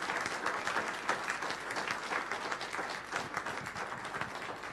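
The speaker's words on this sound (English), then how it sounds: "Let's give him a big round of applause." An audience at an evening book talk claps in steady, sustained applause that fills the room, heard from a slight distance without any voices.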